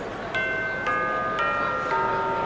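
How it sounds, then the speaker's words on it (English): Chiming bell in the 3DS game Bravely Second, four evenly spaced resonant strikes ringing out with a sustained tonal decay, moderately loud over a soft background. "Oh, there's the bell."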